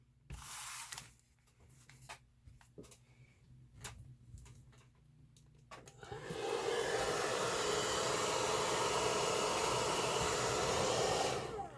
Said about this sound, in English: Now we're just going to hit it with our handy dandy hairdryer